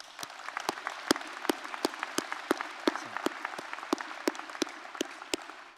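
An audience at the 2023 West Boca High graduation applauds continuously with dense, sustained clapping that stays even throughout.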